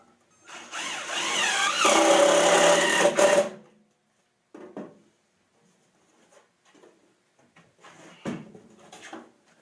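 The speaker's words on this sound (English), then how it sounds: "I pre-drilled these boards so that the screws go in and bite into the posts real easy" A screw is driven into pre-drilled boards of a wooden raised potato box with a power driver, giving a loud continuous whir of about three seconds, followed by quieter scattered clunks and handling of the wood.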